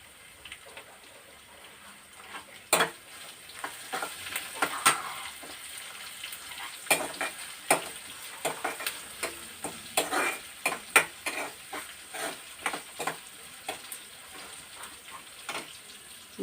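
Onions frying in a pan while being stirred, a constant sizzle with frequent sharp scraping and clattering strokes of a spatula, busy and close.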